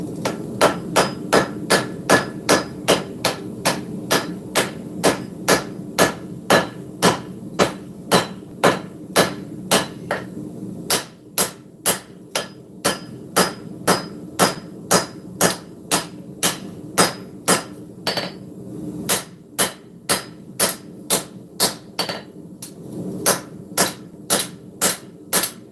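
Steady, loud hammer blows ring out on a forged steel cleaver being straightened, dozens of sharp metallic strikes in a fast even rhythm with a brief pause midway, alone without talk.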